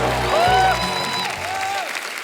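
A studio audience applauds to welcome a guest on a comedy talk show, a short burst of clapping mixed with music and a host's voice over it.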